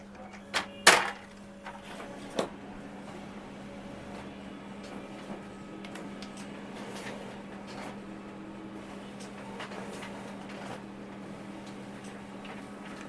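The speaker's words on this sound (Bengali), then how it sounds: "আমি এইটাই আরেকবার স্ক্যান করব, এটাই ডুপ্লেক্স হয়ে আসবে।" A Toshiba e-Studio 2523AD photocopier scans a duplex page, with a few sharp clunks near the start and then a steady low mechanical hum and soft ticking from the machine.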